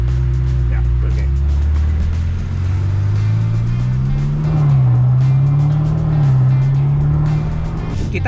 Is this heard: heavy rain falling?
no